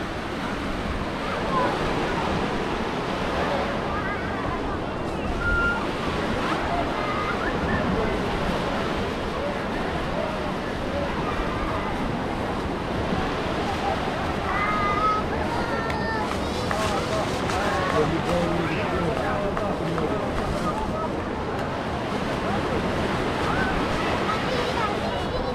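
Waves wash and churn continuously nearby at a new beach in Bat Yam, a steady rushing surf with some wind, while a person speaks intermittently over the water.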